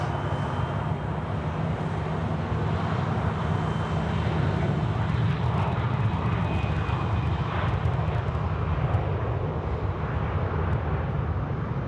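A Garuda airliner at Sydney Airport roars steadily and loudly close by, a broad continuous engine rumble that holds strong throughout with no voices.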